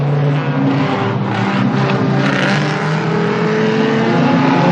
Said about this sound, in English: Billy Perry in the lovely little Peugeot 206 there.